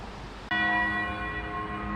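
A single church bell at St. Thomas of Villanova Church strikes once, loud and close, and then rings on as a long, bright, shimmering hum that fades slowly in a celebratory peal.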